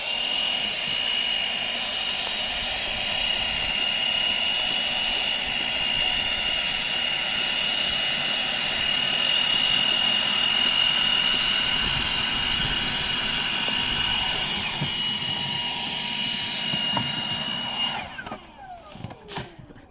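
Milwaukee and DeWalt leaf blowers race, producing a loud, steady, high-pitched whine with a rushing airflow roar that holds for most of the time before sputtering and cutting out near the end.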